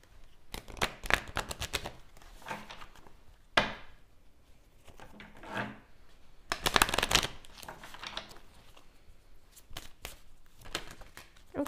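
Tarot cards are shuffled by hand in repeated crisp riffling bursts, separated by pauses and soft tapping as the deck is squared, close and fairly quiet.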